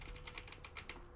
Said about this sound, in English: clackety-clack of mechanical keys.